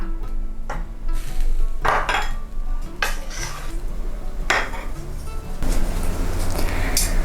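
Boiled Vietnamese-style rice noodles and egg are ladled into a bowl in a kitchen, with repeated metallic clinks and scrapes of ladle against bowl and pot over a steady background hum.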